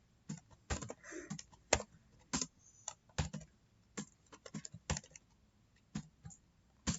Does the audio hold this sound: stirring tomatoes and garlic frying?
no